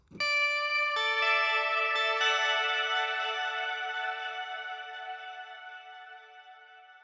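Pro One and Prophet synth multi in its wet version with chorus and echo, a bright plucked chord cluster struck several times then ringing out in a long wavering, vibrato-laden decay, alone with no talk.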